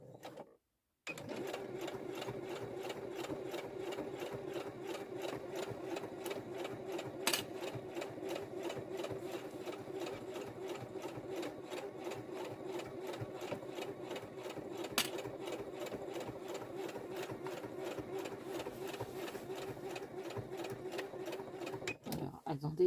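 A sewing machine runs slowly and steadily, stitching close to the edge of very thick fabric for a handmade bag, with a continuous mechanical hum and a faint rhythmic needle tick near the microphone for about twenty seconds.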